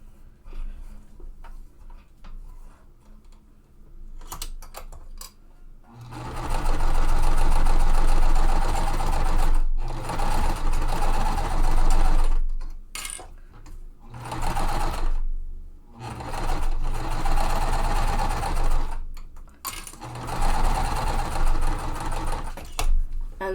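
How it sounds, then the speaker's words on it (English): A sewing machine stitches along the edge of a quilt, running in several long steady bursts with brief pauses between them, close and loud with a fast mechanical hum. "we are going to sew along that edge"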